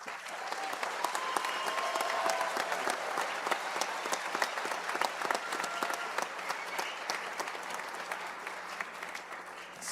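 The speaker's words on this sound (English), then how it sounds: "Please give these students a round of applause." Round of applause from a graduation ceremony audience for graduating students, sustained even clapping from a sizable crowd, moderately distant and steady for the whole stretch.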